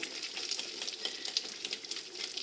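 Egg yolks are stirred into chocolate mousse mixture in a bowl, making soft, continuous wet scraping and swishing with quick rhythmic strokes, close and quiet.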